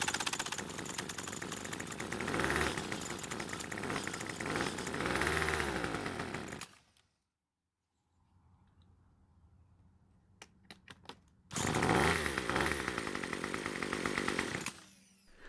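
A Craftsman string trimmer engine, started with its electric starter, runs with a loud, rough buzzing roar, cuts out into near silence with a few faint clicks, then roars back to life near the end.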